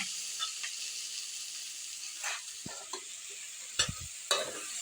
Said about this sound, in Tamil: எண்ணெயிலே இந்த காயெல்லாம் நல்லா வெந்துடும்